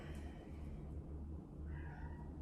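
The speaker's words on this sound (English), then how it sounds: "do you hear the kitty crying?" A cat meows a few times, moderately close, over a steady low rumbling hum.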